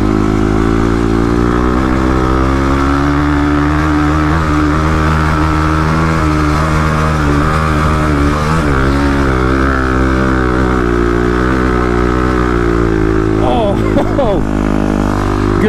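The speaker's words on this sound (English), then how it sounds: "Good old KLX is chugging along pretty good." A stock 35 hp Kawasaki KLX351 dirt bike chugs steadily across sand dunes, its loud, close, continuous engine drone holding a low rumbling tone throughout, with brief pitch swings near the end and some talk over it.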